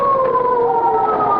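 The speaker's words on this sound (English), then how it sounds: "Hey, police siren." A police siren sound effect in a 1947 radio drama wails as a loud, steady, slightly falling tone, heard alone without voices.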